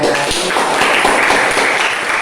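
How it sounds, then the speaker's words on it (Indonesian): A classroom of students claps for group 1 after their presentation, a dense, steady patter of many hands held at an even level for the whole stretch, with no voices over it. "Kita berikan tepuk tangan"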